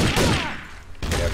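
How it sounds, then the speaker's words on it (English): Gunfire in Garry's Mod Trouble in Terrorist Town crackles in loud, dense bursts, breaking off briefly before another burst resumes. "People are shooting each other."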